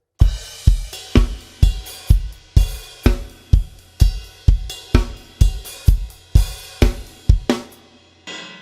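Drummer playing a song's drum pattern, a loud close run of punchy hits with ringing cymbal wash and rapid fills, ending in a sustained ring.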